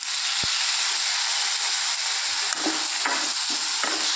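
Onion and tomato sizzle steadily as they sauté in a hot pan in a home kitchen, a loud continuous frying hiss with a few soft spatula stirs and clicks.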